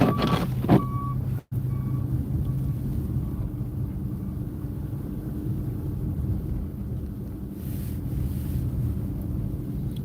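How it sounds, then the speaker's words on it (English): A borough snow plow truck out on a stormy street sounds a couple of short reversing beeps early on, partly lost in steady engine rumble and wind noise. "There's a Burrow truck right there."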